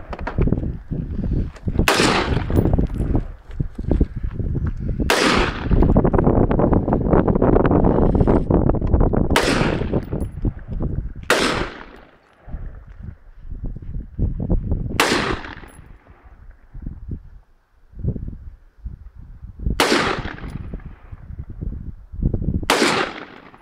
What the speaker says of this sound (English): shooting the big AR-15